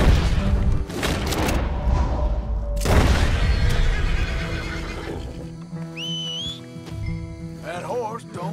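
A horse in the Red Dead Redemption 2 video game neighs and whinnies amid a loud, busy scene of thuds and rumbles, with a couple of shrill rising whinnies standing out clearly toward the end.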